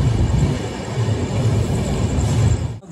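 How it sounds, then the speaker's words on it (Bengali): Darjeeling Mail passenger train entering Bardhaman Junction, heard from on board as a steady low rumble of rolling coaches, with a brief dip near the end. "ট্রেন কিন্তু 20 মিনিট লেটে চলছে আর এখন ঢুকছে বর্ধমান জংশন"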